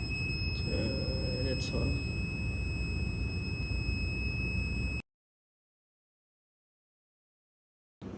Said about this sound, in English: So the buzzer is buzzing and the LED is blink.